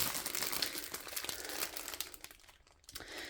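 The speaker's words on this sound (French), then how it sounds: "on va déballer ça tout de suite" Crinkly plastic packaging around a canvas print rustles and crackles up close as it is unwrapped, with dense crumpling that quiets briefly near the end.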